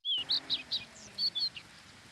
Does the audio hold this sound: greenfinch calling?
yes